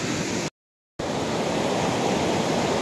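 Strong floodwater rushes over a road after a storm in Kashmir, making a loud, continuous roar close by. A brief dropout of total silence cuts in early, and then the torrent resumes unchanged.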